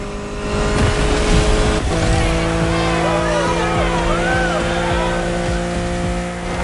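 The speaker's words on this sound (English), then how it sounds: "Back with the BMW M4 Liberty Walk Edition." A BMW M4 Liberty Walk Edition in a Crew Motorfest racing game sends out a steady, loud engine drone with a gear shift partway through and brief tire squeals over the continuous roar.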